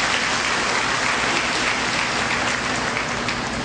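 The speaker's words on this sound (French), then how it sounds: "Applaudis encore une telle initiative." A church congregation applauding during a Sunday service broadcast event, a dense, steady wash of clapping that fills the whole stretch at even loudness, no speech over it.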